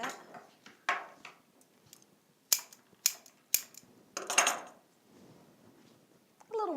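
A crafter trims a piece down with scissors, producing several crisp, close snips and clicks in an irregular rhythm, separated by brief quiet gaps and light handling noise.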